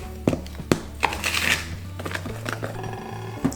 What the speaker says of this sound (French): Et ensuite je mélange le tout.